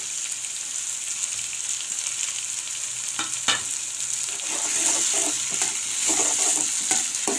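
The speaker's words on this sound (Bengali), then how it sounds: "তো ভালো করে ভেজে নেব।" Onion and dried fish fry in a pan for an onion dry-fish chutney, giving a steady close sizzle with stirring scrapes and a few sharp clicks, and no one talking.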